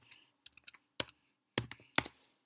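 Typing on a computer keyboard while entering a place name into a map search, a few separate close key clicks followed by short bursts of quick taps, alone in a quiet room.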